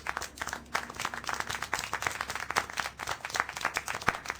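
Steady, dense applause from a crowd in a video game, continuous clapping with no pauses, fairly close and moderately loud.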